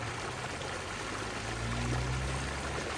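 Water gushes steadily from a leak in a water-damaged building, a dense continuous rush and splash with a low rumble beneath, fairly close and unbroken, with no voices.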